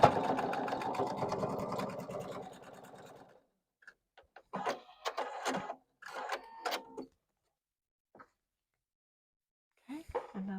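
A sewing machine stitches quilt block seams in a steady, moderately quiet run of about three seconds, followed by soft handling noises and brief, faint bits of speech.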